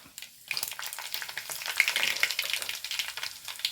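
Fenugreek seeds and dried red chillies frying in oil: a quiet start, then a crackling, spitting sizzle that swells and holds steady close by, with some stirring and no voices.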